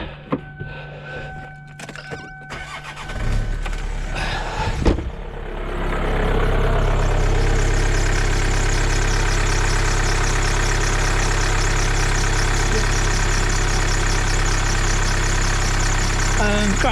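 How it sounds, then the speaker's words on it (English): A 2010 Kia Sportage engine after a battery and alternator swap cranks briefly after some clicks and rustling, then catches and settles into a loud, steady idle that runs close up for the remaining ten seconds. "So please start engine."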